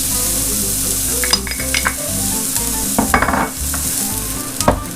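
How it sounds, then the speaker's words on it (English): Diced onions and red peppers sizzle in hot oil in a pan over medium heat, a steady frying hiss broken by several scraping stirs of a utensil against the pan. "I'll go ahead and go in with my diced onions and red peppers"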